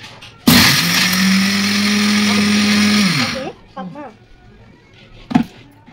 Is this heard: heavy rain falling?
no